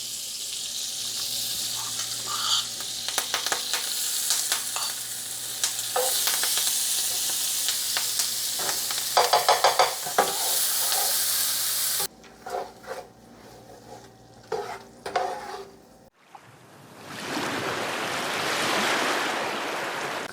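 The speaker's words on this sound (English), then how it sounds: "To this, we're gonna add some of our chopped seasonings with fresh thyme." Chopped seasonings and fresh thyme hit a hot pan while cooking cornmeal, raising a loud, steady sizzle with stirring clatter and scraping, then a brief quieter stretch before a broad hiss of frying returns.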